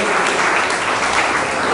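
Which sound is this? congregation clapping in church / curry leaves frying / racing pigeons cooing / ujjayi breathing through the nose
congregation clapping in church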